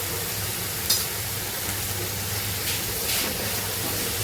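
Spices with coriander powder, turmeric and red chilli sizzle and hiss in a pan for dal palak, a continuous frying sound broken by a few scraping stirs.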